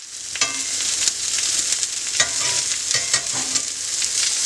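Cauliflower and broccoli florets sizzle face down in avocado oil on a skillet, a steady, close hiss broken by several sharp pops and clicks as the pieces are set in place.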